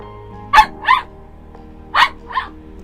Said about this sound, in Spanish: Deje de ladrar, por favor, si no, no puedo grabar.